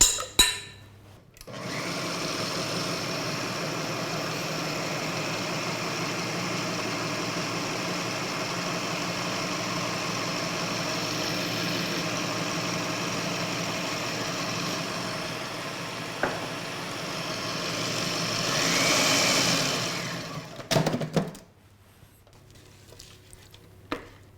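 An electric stand mixer beats eggs, butter and ground almonds for a frangipane tart, a steady whirring motor hum that swells briefly near the end before cutting off abruptly.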